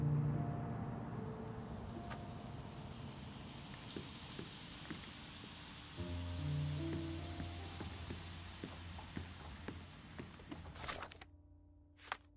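Rain falls steadily in the Sherlock Holmes: Chapter One game world, a soft continuous patter with scattered louder drips and splashes and a faint low rumble underneath, and no voices.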